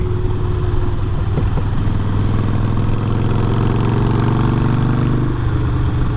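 A Harley Davidson Iron 883 Sportster motorcycle idling close by, a steady loud low-pitched rumble with an even throbbing pulse that holds throughout, with no talking.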